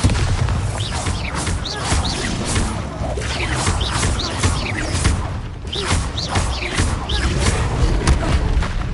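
Explosive Bombarda spell blasts in a Harry Potter video game, a dense continuous barrage of booms and crashes layered with game effects, loud and sustained throughout.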